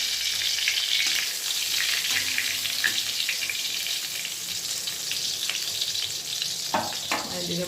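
Eggplant slices fry in reused oil left from earlier frying, a close, steady sizzle and crackle with a few spatula knocks and stirring sounds and no talking.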